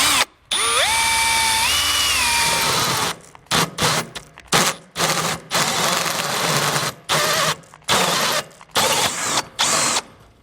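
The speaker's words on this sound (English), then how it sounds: "So I'm going to go kind of just in the center there and drill it out." Power drill boring out a steel panel on a 2018 Ford Edge, starting with a rising whine as the bit spins up and bites, then a run of short, loud drilling bursts separated by brief pauses, close up with no talking.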